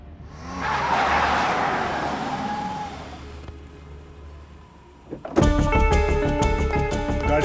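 A car rolls up and stops in front of a police station, with tires scrubbing and the engine winding down before a sharp clunk. Loud busy music then bursts in over the idling vehicle.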